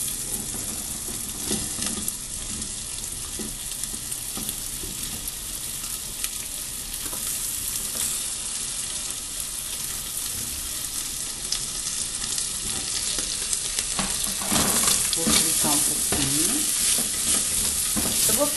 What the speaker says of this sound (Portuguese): Vou colocar o bacon com a calabresa.